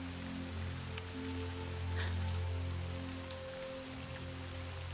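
Steady rain patters softly on a surface, an even hiss with a faint low hum underneath and no voices.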